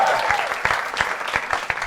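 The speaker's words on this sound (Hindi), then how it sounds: "तालियां बजती रहनी चाहिए बादल शर्मा से।" An audience at a live poetry and comedy show claps steadily and densely, a continuous wash of applause filling the room with no speech over it.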